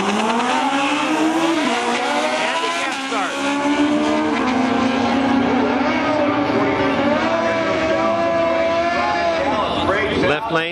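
Drag racing motorcycles launching at Portland International Raceway during the 2008 NHRA Division 6 Oregon Open: loud engines rev and rise in pitch as the bikes pull away, with an announcer talking over the roar.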